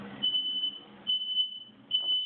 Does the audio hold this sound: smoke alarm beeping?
yes